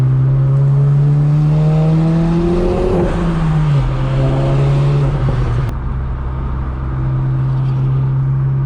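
A VW MK7 Golf GTI or Golf R with an aftermarket turbo intake drones loudly from inside the car, its engine note rising and holding under acceleration, then dipping and settling into a steady cruise hum.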